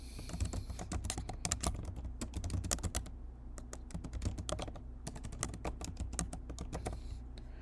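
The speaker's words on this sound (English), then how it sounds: "Then type in your question" Question being typed on a computer keyboard, a quick run of light close key clicks in uneven bursts with a few short pauses and no talk.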